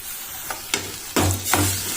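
Onion, curry leaves, dried red chillies and ginger-garlic paste sautéed in a pan, a close sizzle broken by a few distinct scraping stirs of a spatula, louder sweeps toward the end, no talking.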